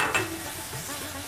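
Whisked sour yogurt is stirred into a frying dhokar dalna gravy, giving a soft hissing sizzle with scraping stirs in the pan, heard close and moderately quiet.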